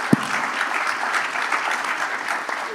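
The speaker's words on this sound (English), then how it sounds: "Let's give them a round of applause for the information they just shared." Audience applause at an industry conference session on walnut trade trends, a steady, dense clapping from a sizable crowd lasting the whole stretch, fairly close and even in level.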